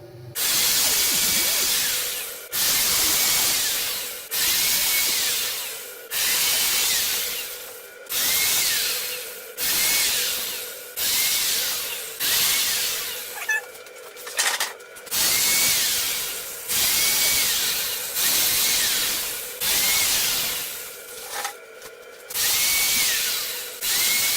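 A power drill with a 3/32-inch bit repeatedly whirring into wood for budget storage shelves in bursts of about two seconds, each ending with a brief pause, close and loud with a hissing edge.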